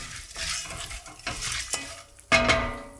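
Corn kernels and granulated sugar stirred in a hot pan for kettle corn, a steady scraping and light sizzle throughout with a sharper clatter of the utensil near the end.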